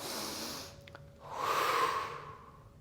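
Deep breathing during a mat Pilates class: a soft airy exhale fades, then a longer, fuller breath rises and swells before tapering, close and quiet with no talk.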